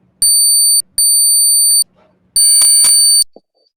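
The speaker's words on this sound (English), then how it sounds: "do you guys hear the beeping sound?" Three loud, piercing electronic tones sound in a row, two long matching beeps followed by a harsher, buzzier one, each cutting off abruptly.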